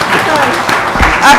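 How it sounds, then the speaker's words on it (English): Brief burst of audience applause at a debate competition, dense clapping heard against the room's ambience for a moment. "Have a big applause for him. A big applause."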